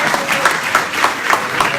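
Audience at a travel company launch event in Barbados applauding an executive, loud clapping from a crowd with a few sharper individual claps standing out over the steady patter.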